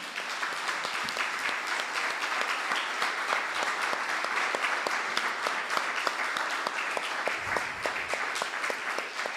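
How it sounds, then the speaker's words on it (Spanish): A church congregation claps for the Lord in a steady, dense round of applause during a Spanish-language sermon service, filling the room continuously and loudly for the whole stretch with no voice on top. "¿Cuántos le dan un aplauso al Señor?"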